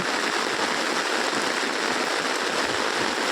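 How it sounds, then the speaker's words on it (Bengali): Heavy rain pours down in a village near a flooding stream, making a dense, continuous roar of drops that stays loud and even, with no voices. "প্রচণ্ড বৃষ্টি।"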